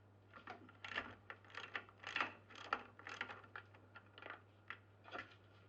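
A spanner works on a nut and bolt on the TE449/TE511 rear linkage, making a quiet run of close metallic clicks and ratcheting ticks at an uneven rhythm, with no voices.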